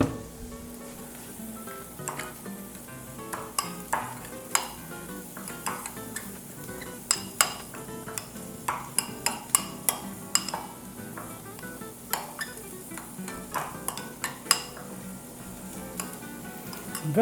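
A spoon stirs red wine vinegar into flour in a pot or bowl, giving repeated close scraping clinks and taps against the sides over a steady sizzling background.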